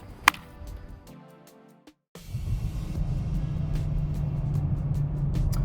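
BMW M2 Coupe prototype at the Salzburgring, a sharp click and a brief lull, then a steady engine drone settling in at a constant, moderately loud level.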